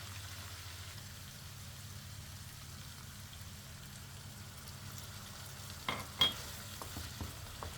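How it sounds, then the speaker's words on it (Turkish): Chicken tantuni with cumin simmers in a pan, a steady soft bubbling sizzle throughout, with a few sharper clinks and stirring knocks near the end. "Kimyonu da ekledikten sonra bir taşım şöyle kaynatıyoruz"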